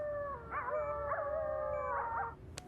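Several jackals howl together, with long, sustained, wavering wails in overlapping pitches, fairly faint and set against quiet background noise, ending with a short sharp click.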